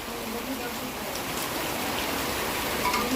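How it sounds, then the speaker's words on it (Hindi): Rain falls steadily outdoors in a steady hiss with scattered drops on surfaces, a constant moderate patter throughout. "बारिश शुरू हो गई है"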